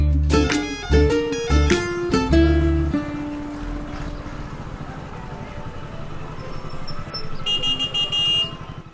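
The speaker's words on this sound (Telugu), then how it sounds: "ఎందుకు అలా హార్న్ కొడుతున్నావు వస్తున్నా కదా" Several short, loud car horn honks in quick succession, followed by a steady tonal drone and a brief higher beeping near the end.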